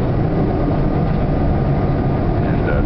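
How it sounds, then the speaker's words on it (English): Loud, steady low rumble of a subway train rolling along the tracks as it comes into a station, a constant heavy roar with faint mechanical whine above it. "We're going to be coming into another station."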